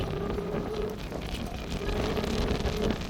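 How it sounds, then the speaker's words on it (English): Steady wind buffets the microphone during a bike ride on a riverside trail, producing a constant low rumbling roar that fills the whole stretch with no break and no talk. "Oh, I'm hating this wind."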